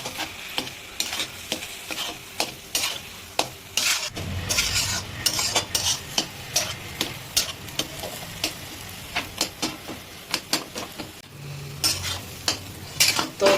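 Mashed potato being stirred and mixed in a hot kadai with a metal spatula, giving repeated scraping clatters and soft sizzling, close and steady with no talk.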